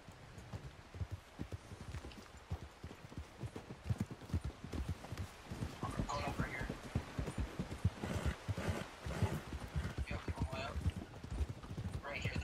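Horse hooves clip-clop steadily in Red Dead Online, a continuous rhythmic patter of many quick, moderately loud steps running the whole stretch, with a player's voice talking over them.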